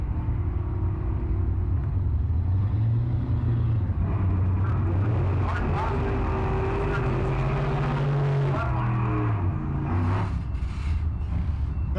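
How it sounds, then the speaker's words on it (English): A B-gas drag racing car called Hellacious rumbles loudly at a car cruise night in Kearney, its deep engine drone wavering in pitch as it idles and revs, with an announcer's voice heard faintly over it. "The B-gas car they call Hellacious."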